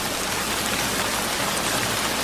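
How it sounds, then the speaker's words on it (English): Heavy rain pours down in a dense, constant hiss of drops striking surfaces, loud and unbroken, with no voices. "And then one day, it started raining,"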